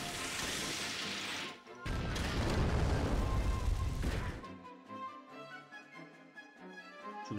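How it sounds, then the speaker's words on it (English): A plasma laser cannon attack in the video game Yu-Gi-Oh! The Falsebound Kingdom: two loud roaring blast bursts, briefly broken by a gap, then fading into game music. "Plasma laser cannon."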